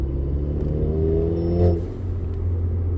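A Seat Ibiza Cupra with a Stage 1 tune accelerates at full throttle in fourth gear, its engine giving a steady, close, rumbling drone that swells slightly partway through.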